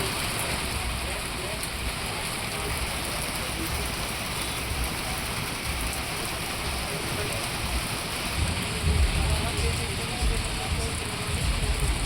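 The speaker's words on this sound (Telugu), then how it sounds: "భారీ వర్షం పడింది." Heavy rain pours down in Vijayawada, a dense, even hiss of downpour close and loud throughout, swelling slightly heavier toward the end.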